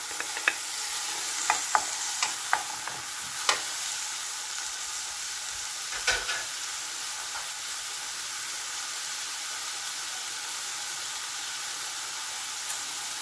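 Tomatoes are stirred into a hot frying pan for an eggplant and ground pork dish: a steady, fairly faint hiss of sizzling, with a few light scrapes and taps of a utensil in the first seconds and one more around the middle.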